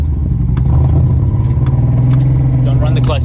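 A Datsun car engine rumbles steadily up close as the driver gives gas during a first drive, with a low continuous drone and some clatter, and voices speaking over it.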